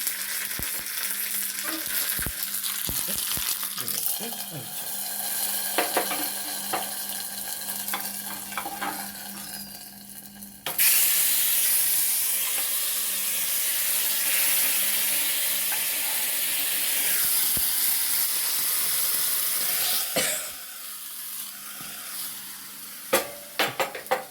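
Curry leaves and small dried chillies sputter in hot oil while being stirred, making a busy sizzle with utensil knocks and a louder hissing burst midway, with no speech.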